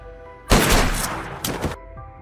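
Film gunfire in a tense scene, a loud close burst of rapid shots lasting about a second, a short pause, then a second shorter volley before it cuts back to quiet.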